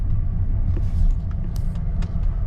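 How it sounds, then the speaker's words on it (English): A 2011 Saab 9-5 with a turbocharged engine hums low and steady while driving on the road, a continuous close rumble with small knocks and rattles. "Turbo is running nice. Car is pretty smooth, quiet."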